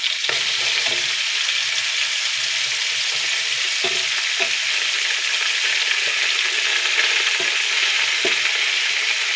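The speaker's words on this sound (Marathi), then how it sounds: "आपण कांदा तळून घेणार आहे आणि एक साईडला मी कढई छान अशी गरम करायला ठेवलेली आहे" Onion frying in a hot kadhai for chicken biryani, a loud, steady close-up sizzle with occasional crackles and stirring scrapes, no voices.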